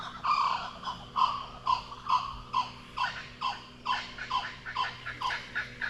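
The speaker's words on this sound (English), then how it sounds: "We've got some kookaburras just in the tree behind us." Loud, rhythmic bird calls repeat in rapid bursts, rising and falling like cackling laughter from kookaburras in a tree close by in Kakadu National Park, in the morning, with no talking.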